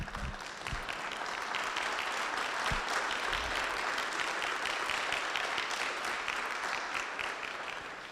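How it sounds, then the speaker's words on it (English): Sustained audience applause fills a community water forum hall, steady and dense throughout with a slight fade at the end. "And I heard applause for both points of view."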